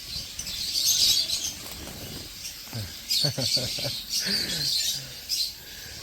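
Pet birds bathe in summer, with bursts of rapid wing flapping and water splashing alongside soft chirps, close by, as someone talks over them.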